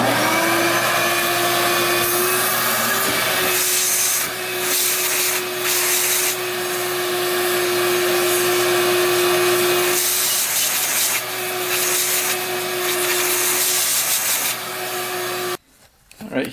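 A vacuum cleaner runs close and loud with a steady tonal whine and rushing airflow as it sucks up a dead mouse, with rattling debris in the hose, then shuts off near the end.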